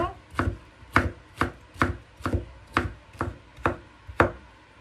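A knife chops zucchini on a cutting board in a home kitchen, with nine crisp, evenly spaced strokes landing in a steady rhythm, up close and alone with no voices.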